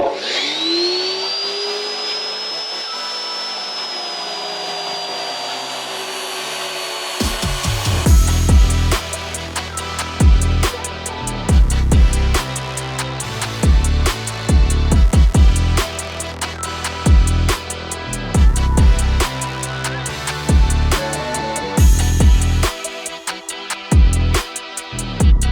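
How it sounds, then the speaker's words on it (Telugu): Welding on a metal frame for a tree house: a thin whining tone fades out, then loud, close, buzzing crackle comes in repeated bursts separated by short pauses. "సో ఇప్పుడు ఇవైతే వెల్డింగ్ కొట్టుకుందాం."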